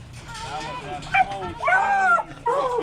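Hunting hounds bark, yip and whimper in a rising chorus, with short bursts around the middle and a louder stretch toward the end, close by and sounding over a low background rumble.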